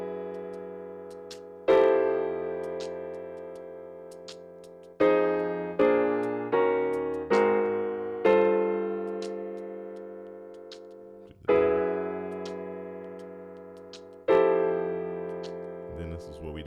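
A gospel piano plays the intro of "He's Able" as rich sustained chords struck one at a time, each ringing out and decaying before the next, with a slow stately rhythm and quicker clusters in the middle.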